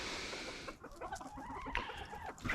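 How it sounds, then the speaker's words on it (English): Farm chickens on a homestead clucking at feeding time, a busy cluster of short overlapping clucks and squawks, close and continuous over rustling ground noise. "But these are the chickens."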